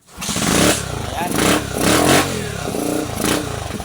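A Euro 125 motorcycle engine, newly converted to a battery-operated 4-pin CDI, starts and runs close by, revving in several bursts with a clattering idle between them while someone talks over it.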